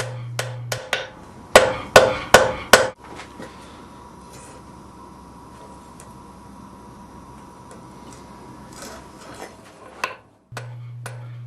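Blacksmith hammering a forged hinge off the bar stock: a few sharp metallic strikes, then a quick burst of ringing blows, followed by a long quiet stretch with a low steady hum.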